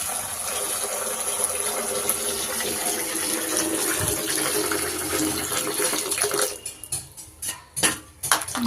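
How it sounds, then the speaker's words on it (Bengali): Tap water runs steadily into a sink while spinach and sandy potatoes are washed, a close continuous gush that gives way near the end to choppier splashing and handling sounds. "দু তিনবার জল দিয়ে দিয়ে ধুতে হবে, নাহলে বালিটা যাবে না।"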